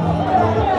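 Crowd at a Deira Dubai night market with food stalls and performances, a brief close burst of mingled chatter and babble.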